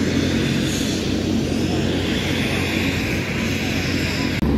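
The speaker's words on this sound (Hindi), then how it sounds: "और उड़ने के लिए देखिए हेलीकॉप्टर तैयार हो चुका है" A helicopter engine runs on the ground before takeoff near a crowd at a political visit, a loud, steady, continuous engine and rotor drone with no pauses.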